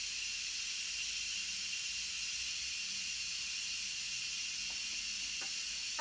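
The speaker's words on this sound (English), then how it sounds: "Just don't put your hand above that steam." Steam from an Instant Pot's pressure release hisses in a steady, unbroken stream, loud and close. A few faint clicks come near the end, and no one speaks.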